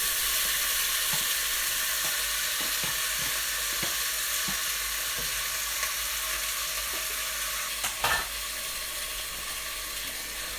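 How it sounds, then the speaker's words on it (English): Whole spices, cloves, cinnamon, cardamom and cumin seeds, frying in a pan for chicken biryani, a steady soft sizzle and hiss with a few light clicks and one brief clatter near the end, no talking. "Let that fry just for a few minutes before adding the meat with the marinade."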